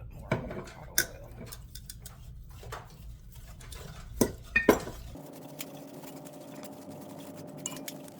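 Roux for chicken and sausage gumbo stirred in a pot with avocado oil, a spoon scraping and clinking against the sides in soft, irregular taps, with a few sharper knocks partway through.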